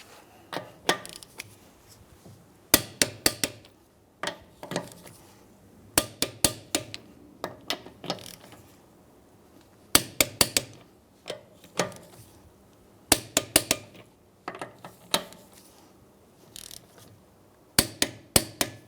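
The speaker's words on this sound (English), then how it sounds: "we're going to go ahead and torque down our lug nuts to 79 foot-pounds" Torque wrench clicking as lug nuts on a 2003-2011 Honda Element are tightened in a crisscross pattern, heard as close, sharp metallic clicks in quick clusters of two to four, separated by short pauses.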